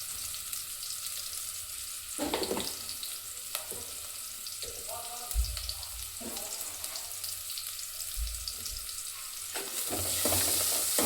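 Onions with salt fry in a pan, giving a continuous bright sizzle. Occasional scrapes and stirs cut through it, and it grows a little louder near the end.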